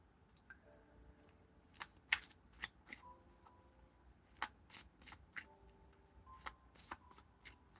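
Tarot cards being shuffled in a series of crisp riffling bursts and soft slaps, close and fairly quiet, with brief pauses between.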